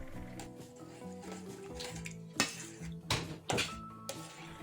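A homemade cleaner of citric acid, dish soap and toothpaste is stirred in a container, giving quiet clinks and scrapes of a utensil with a few sharper knocks near the end.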